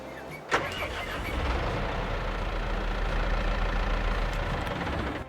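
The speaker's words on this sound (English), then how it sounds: "I'll be quiet and turn that engine over so you guys can hear it." The John Deere 9020 tractor's engine in Farming Simulator 22 cranks with a short click and then catches into a steady, deep rumbling idle that holds on alone to the end.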